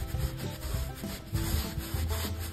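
A small brush dry-rubs wood stain into a shed's walls, giving soft, continuous scrubbing strokes close by at low volume, with no voices.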